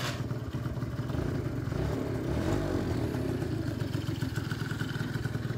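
Yamaha Aerox 2T two-stroke scooter from 2012 running right after being started, a steady close buzzing engine with rattly clatter throughout, loud and continuous without speech.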